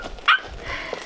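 A tiny puppy gives one short, high yip up close against quiet outdoor background.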